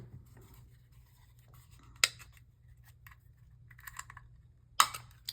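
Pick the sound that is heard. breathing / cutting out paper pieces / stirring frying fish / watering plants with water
cutting out paper pieces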